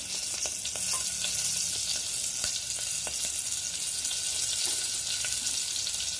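Green chillies fry in a pan for a lemon rasam, giving a steady, close sizzle with scattered crackles and pops throughout, and no talking.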